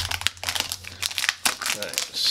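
Packaging for an HP Spectre x360 laptop being opened, with close, busy crinkling and crumpling of plastic and paper in quick bursts while someone talks.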